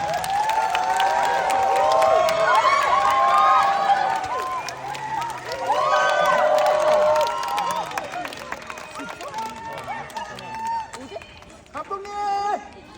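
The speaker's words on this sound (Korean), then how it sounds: "재밌는 영화 만들어주신 감독님과 배우분들 뜨거운 박수로 한번 모셔보겠습니다" A cinema audience claps and cheers loudly to welcome the director and actors of Veteran 2 at a stage greeting, with crowd babble and shouts mixed through the sustained applause.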